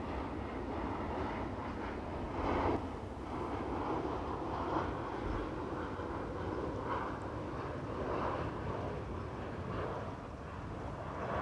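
Low-flying fixed-wing airplanes pass overhead near a rural church in Chickney, Essex, a steady broad engine roar that swells and fades over about eleven seconds, with no talking.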